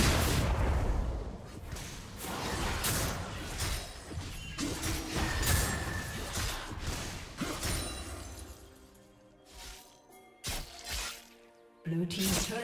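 A turret being destroyed in the League of Legends video game: loud crashing, crumbling impacts layered over busy battle effects, with bursts that fade and return near the end and voices partly underneath.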